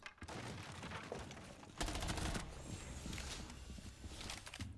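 A futuristic Paragon Elite skin weapon reload in a video game gives off a dense, loud run of mechanical clacks and whirring bursts, with a sharp clattering surge midway.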